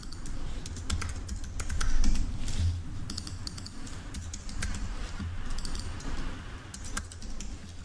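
Rapid, uneven keystrokes clatter on a computer keyboard while text is typed during design work, close and fairly quiet, with irregular bursts and brief pauses and no speech.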